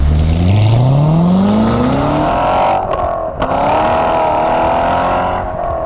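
A 2014 Chevrolet Corvette Stingray C7 convertible with a 6.2 litre engine pulls hard, its loud engine note rising steadily through the gears, dipping briefly around a shift, then climbing again, close and continuous with no talk.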